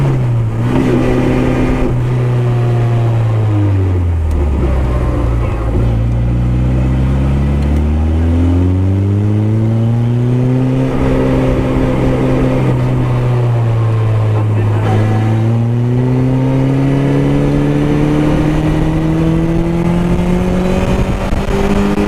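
A Honda S2000 Indy RR, a 9000 rpm car, revs loudly from inside the cabin on a test drive. The engine note climbs, falls back and climbs again through several gear pulls under steady wind noise, and a voice talks over it.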